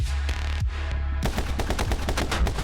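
Gunfire in the video game My Friend Pedro: loud, close bursts of rapid shots, first a few separate cracks, then a dense string of quick successive blasts.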